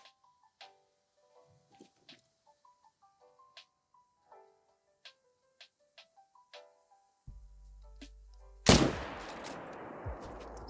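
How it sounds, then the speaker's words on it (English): A single loud, sharp rifle shot fired at a Yukon bison in theHunter: Call of the Wild, hardcore mode in Te Awaroa, cracks out near the end after soft tonal game chimes and a low rumble, then trails into a decaying echo. "Going for the heart shot."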